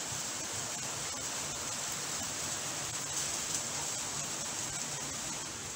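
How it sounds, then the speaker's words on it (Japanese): Heavy rain pours steadily during a typhoon in Japan, a dense, even roar of falling water with no breaks and no voices. "雨が強くなったりとか。 実際結構降ってます。"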